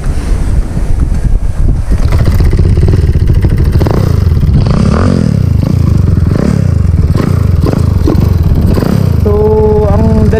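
A Honda Wave S underbone motorcycle fitted with a 178cc engine runs steadily, its loud engine drone rising and falling as it revs, heavily buffeted by wind noise at the microphone.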